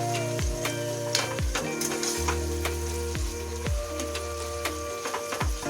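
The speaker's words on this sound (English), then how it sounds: "So we have to fry these onions and stir it continuously so that it gets fried evenly" Onions frying in oil in a pan over a high flame for chicken biryani, a steady crackling sizzle with repeated scraping stirs of a spoon against the pan, close and continuous with no talking.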